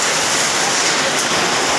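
Steady rain falls near a village market shop in Odisha, a loud and continuous rushing hiss close by, without talk over it.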